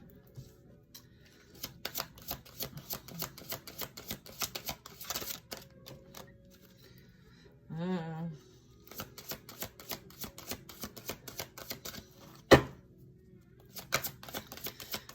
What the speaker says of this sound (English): Let me get all these cards out